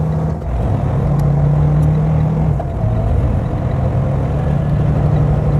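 Diesel semi truck with gelled fuel, its engine cranking, running roughly for a few seconds and faltering out, heard close with a steady low rumble and a brief dip midway.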